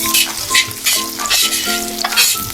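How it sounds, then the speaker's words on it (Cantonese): Garlic sizzles and crackles as it is stir-fried in a hot wok, a busy close frying hiss punctuated by scraping stirs and a few clanging tones, with no talking. "放啲蒜頭爆香嘅先"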